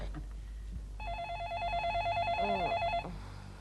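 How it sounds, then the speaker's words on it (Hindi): Telephone ringing in a Hindi TV comedy scene: after a short gap, a steady electronic trilling ring runs for about two seconds, fairly close, over faint background sounds, with no speech. "फोन उठाओ ना।"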